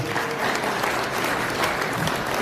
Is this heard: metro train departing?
no